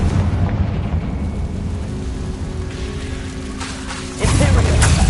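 A Confringo fire spell in the video game Hogwarts Legacy on PS5 bursts suddenly after a stretch of rumbling, rain-like game ambience, then the louder, crackling explosion continues to the end.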